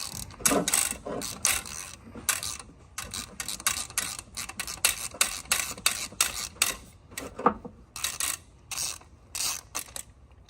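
A hand ratchet wrench works on bolts during an engine swap on a square-body truck, giving a long run of quick, close clicking strokes in uneven bursts with short pauses, no talking.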